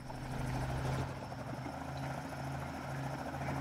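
A helicopter in Roblox Mad City drones steadily, its rotor chopping in a continuous low thrum that stays at an even loudness throughout.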